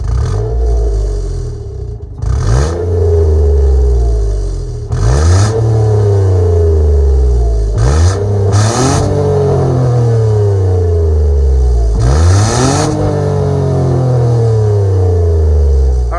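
A 2022 Mitsubishi Mirage G4 ES manual with a 1.2-liter three-cylinder engine revs loudly up close, several repeated blips climbing and falling back to idle, no talk over it.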